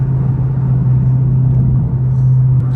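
A catless Dodge Scat Pack drives through city traffic with a steady, deep droning exhaust and engine rumble at cruising pace, loud and continuous from inside the car, with no talk.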